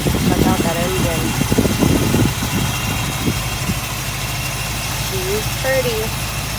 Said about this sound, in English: So I just want to get it started, let you hear it run.